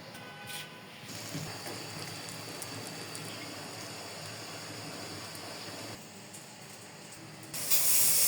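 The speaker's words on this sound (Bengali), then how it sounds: "বাকি পিঠাগুলো একটি একটি করে ভাজবো আর দুধে ভিজিয়ে নিব" Chitoi pitha batter fries in a covered pan, giving a steady soft hiss like steam or spray that holds evenly, with a brief louder burst at the very end.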